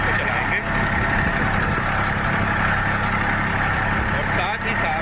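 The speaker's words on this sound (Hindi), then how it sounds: "ये 1530 RPM पर ट्रैक्टर को हमने सेट कर लिया है और हम ट्रैक्टर को चलाते हैं" A tractor engine set to its rated 1530 RPM runs steadily in first high gear while pulling a harrow, a continuous low rumbling drone throughout with a voice talking over it.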